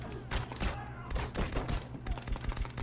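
Rapid bursts of gunfire from the action film The Raid: Redemption ring out in repeated volleys, loud and dense, with a faint voice reacting underneath.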